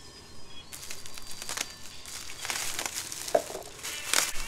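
A plastic wrapper on a ham is cut and pulled open, giving close crinkling and crunching bursts of plastic with a few sharp rustles, no talking.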